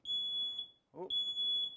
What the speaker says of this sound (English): where's my smoke detector even?